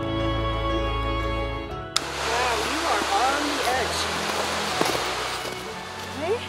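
Steady rushing water on the Chance Cove coastal trail in Newfoundland fills the background after a tonal hum cuts off, with occasional faint chirps over the flow.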